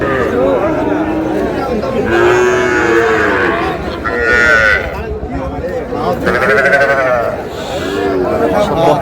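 A seven-month-old bull calf at a cattle market in Kushtia moos several times nearby, drawn-out calls that mix with people talking throughout.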